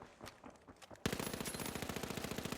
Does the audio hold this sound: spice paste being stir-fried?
no